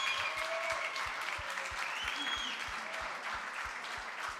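An audience at a dental forum diploma ceremony applauds a graduate, a steady wash of crowd clapping over a low, regular thumping beat.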